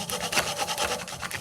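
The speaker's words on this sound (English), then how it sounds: "let me stop sawing because it's taking too much of my attention" Hand saw cutting through real hardwood, close rhythmic rasping strokes in quick succession, loud and alone.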